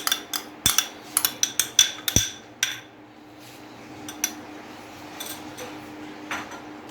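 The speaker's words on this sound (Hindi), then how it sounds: "अच्छी तरह इसको फेंट लेना है चम्मच की मदद से" A metal spoon whisking yogurt in a bowl, a quick run of sharp close clinks and taps against the rim, then softer sparse taps trailing off under a low room hum.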